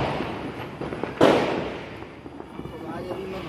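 A single sharp Diwali firecracker bang cuts through outdoor background noise, fairly distant, followed by a short fading rumble.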